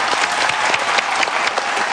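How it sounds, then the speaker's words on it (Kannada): Studio audience applauding on a Kannada television singing show, a dense, loud burst of many hands clapping together for about two seconds. "ಜೊತೆಗೆ ಚಪ್ಪಾಳೆ."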